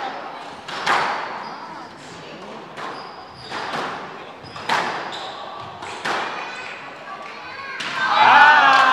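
During a men's squash semifinal match, a rally plays out as sharp, irregular ball thwacks and wall thuds. Commentators talk over the play and the crowd reacts toward the end.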